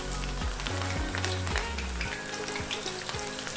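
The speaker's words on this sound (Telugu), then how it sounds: "చికెన్ ముక్కలు ఒక్కటొక్కటిగా తీసుకొని వీటిని డీప్ ఫ్రై చేసుకోవాలి" Cashew-coated chicken pieces deep frying in hot oil, a steady, dense sizzle and bubbling crackle with no talking.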